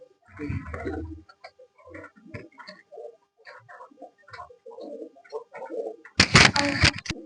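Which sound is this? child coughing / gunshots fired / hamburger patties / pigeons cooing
pigeons cooing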